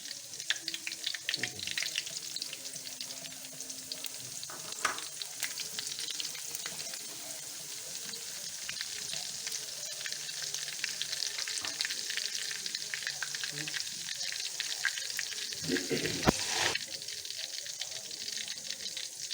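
Garlic and green chillies fry in hot oil for fried rice, a steady close sizzle with occasional stirring scrapes and a sharper burst of crackling near the end, no talk.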